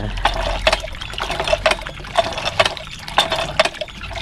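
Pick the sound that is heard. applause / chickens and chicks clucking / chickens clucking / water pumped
water pumped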